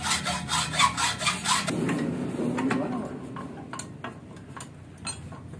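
A hand saw rasps rhythmically through a Yamaha RX-King motorcycle exhaust pipe, giving several quick strokes before a voice speaks over the fading scraping.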